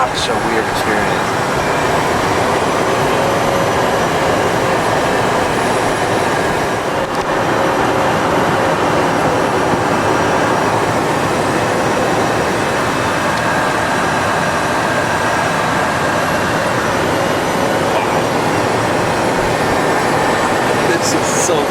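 Cabin of a private jet on landing approach at about 103 knots, a steady loud broadband roar of engine and airflow filling the whole stretch without letup.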